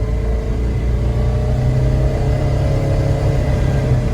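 A Polaris 900 runs on a test drive with a fresh water thermostat, giving a steady, loud, droning engine rumble that holds even throughout with no talk.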